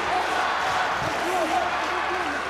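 A rugby stadium crowd in Treviso, Italy, keeps up a constant loud roar with scattered whistles and shouts, under an announcer's voice.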